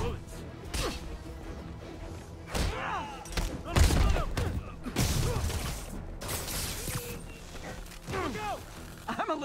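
Gunfire rattles in bursts in the 2018 Spider-Man video game, mixed with whooshes, thuds and impacts of a combat scene, while character voices talk over the action throughout.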